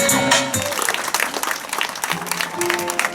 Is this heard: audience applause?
yes